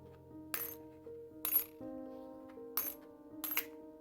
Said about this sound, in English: Then we'll add now these 5 3 pences, and I'll be added in.